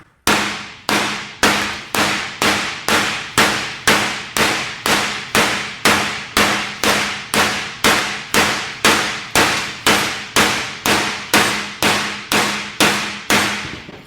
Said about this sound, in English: I bet a rubber hammer just knocked that right back into shape.